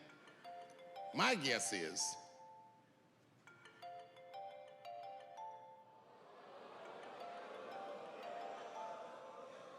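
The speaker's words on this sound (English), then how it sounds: "Go on and answer your phone" Mobile phone ringtone going off in a comedy club audience: a bright repeating melodic chime, loud at first, then fainter, with someone talking over it and crowd noise building toward the end.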